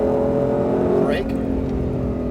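Ford Mustang Shelby GT500 on a race track in Las Vegas, its engine droning steadily at high revs from inside the car as the driver gets back on the throttle, with a brief rising whine partway through.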